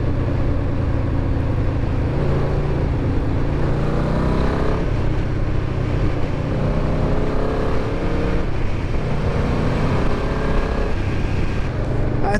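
Restored Yamaha Vmax muscle bike with a V4 engine, ridden on the road: a deep, steady engine drone with wind rush, loud and continuous throughout, no voices over it.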